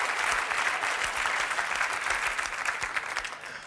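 A studio audience on a French TV game show applauds loudly and steadily, a dense sustained wash of clapping that tapers slightly toward the end.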